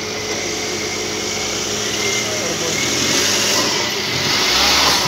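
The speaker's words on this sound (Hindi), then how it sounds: "टर्बो इंजन है" Mercedes-Benz GLA 180 with a turbo engine running steadily, a smooth continuous hum with a slight rise toward the end, heard close up under light background noise.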